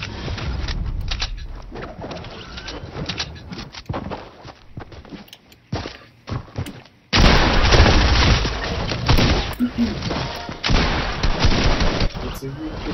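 Fortnite gunfire in a busy battle-royale fight: repeated close shots and booming bursts, loud and irregular, with footsteps between volleys and a denser barrage midway.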